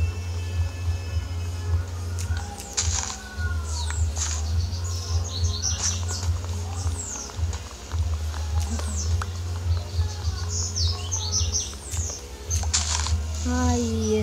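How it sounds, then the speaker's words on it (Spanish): Birds in the video game Minecraft PE chirp and tweet in bright, repeated short calls scattered throughout, over a constant low game hum with faint background chatter. "Ay, esos pajaritos."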